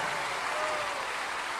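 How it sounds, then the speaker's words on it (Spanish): A church congregation applauding in praise of Jesus during a worship testimony service; a steady, dense wash of clapping from many hands, continuous throughout the short moment with no clear voices on top. "ese aplauso para Jesús"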